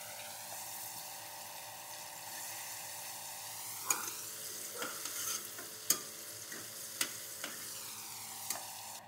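Oil sizzles steadily in a pan while spicy pumpkin is cooked, a soft continuous frying hiss with occasional sharper spits and crackles popping out near the end; no talking.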